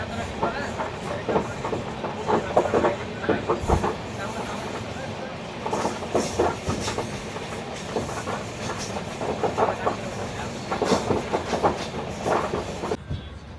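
The Vivek Express, on its long Kanyakumari-to-Dibrugarh run, is heard from inside a crowded general coach. Wheels rattle over rail joints in a rhythmic clickety-clack, with a rumbling undertone and faint background voices.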